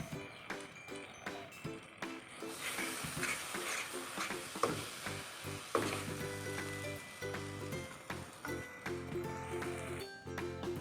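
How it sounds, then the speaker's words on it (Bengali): A grape sandesh mixture is stirred in a pan with steady, rhythmic scraping strokes close up, with a faint sizzle underneath and a couple of sharper knocks against the pan. "এটাকে ভালো মতো নাড়াচাড়া করতে হবে যেন নিচে দিয়ে পোড়া না লাগে। আমি এটা ভালো মতো নাড়াচাড়া করে নেব।"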